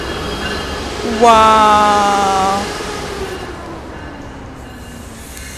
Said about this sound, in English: And here you go, our Brightline train.